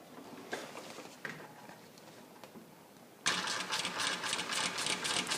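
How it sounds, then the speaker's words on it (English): An industrial sewing machine kicks in partway through, running a steady fast chatter as it stitches lines to tack down a tarp reinforcement tie-out point, with quieter handling noise before it. "So we're going to finish this up with a couple stitch lines to tack this down."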